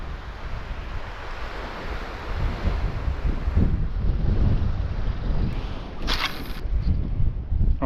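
Wind gusting along a seashore during a fishing outing, a steady broadband roar mixed with surf and microphone buffeting, rising in strength partway through, with no talk.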